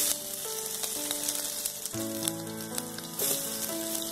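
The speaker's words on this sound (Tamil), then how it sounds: "கருவேப்பிலை போட்ட உடனே பூண்டு போடணும்." Garlic sizzling in hot oil with mustard seeds and curry leaves for a Chennai-style fish curry, a loud, steady crackle with occasional stirring clinks and no talking.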